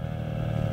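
An OS55 nitro engine on a Trex 600 RC helicopter with a boost pipe runs steadily after tuning, a loud, even buzzing drone with a constant pitch and no talk.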